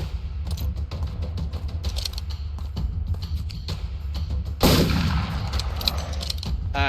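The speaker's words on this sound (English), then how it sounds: "so far I'm actually landing a good majority of my shots" Gunfire in a first-person shooter game played on XREAL Air AR glasses, a dense stream of rapid shots and bursts with mechanical clicks, loud and continuous with a sharper blast near the end.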